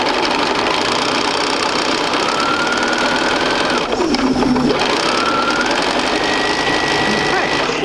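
A sewing machine stitches a quilt block seam for a sampler quilt, running in a steady, close, continuous whir with a brief change in pitch midway and no speech over it.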